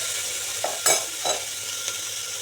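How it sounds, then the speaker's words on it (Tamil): Chopped onion and tomato sizzle steadily in a hot oiled pan for Tamil mutton kulambu, with a few soft scrapes of a spoon stirring them through the close, continuous frying hiss. "பச்சை வாசனை போகிற வரைக்கும் நல்லா வதக்கிக்கலாம்."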